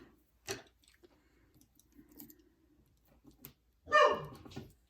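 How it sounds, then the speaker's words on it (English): Dog barking somewhere in the house: a sharp bark near the start and a louder, rougher burst toward the end, with quiet clicks and rustling between. "my dog is barking for whatever reason"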